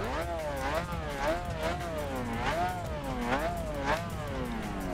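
McLaren F1 car in the racing game The Crew, engine revving up and down in repeated sweeping waves, loud and steady, with tires and road noise underneath.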